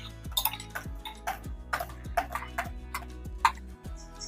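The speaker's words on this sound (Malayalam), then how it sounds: "ജസ്റ്റ് ഈ ഫ്രൂട്ട്സ് എല്ലാം കൂടെ ഒന്ന് മിക്സ് ചെയ്തെടുക്കുന്നതേ ഉള്ളൂ." Banana and mango pieces stirred together in a large bowl: a run of crisp clicks and taps from a utensil knocking the bowl in a fairly regular rhythm, close and clear, with no talk.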